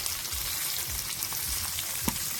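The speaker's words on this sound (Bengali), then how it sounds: "ক্যাপসিকাম গুলো একটু ভেজে নেব আর দিয়ে দেবো পেঁয়াজ, পেঁয়াজের পাপড়ি" Capsicum and onion petals frying in oil in a kadai, a steady close sizzle with soft crackles and a few spatula scrapes, no talk.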